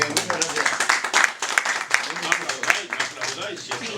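Audience applause at a book talk, clapping mixed with murmuring voices and scattered louder claps, uneven and lively throughout.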